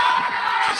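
Vocal crowd at a Nepal versus Netherlands cricket match, a dense wash of cheering and whooping voices sustained throughout, loud and continuous with no single voice standing out.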